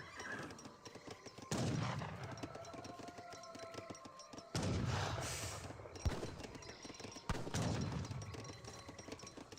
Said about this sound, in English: Sharpshooters firing away, US villagers advancing.